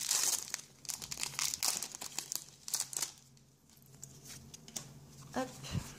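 Foil of a Pokémon XY Impulsion Turbo booster pack crinkles and tears in quiet, close bursts, separated by pauses while someone speaks French softly over the rustling.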